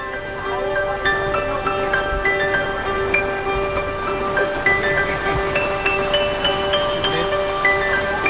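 Rain falls steadily through the whole stretch during a rainy fishing outing, a soft continuous patter sitting beneath louder sustained musical tones.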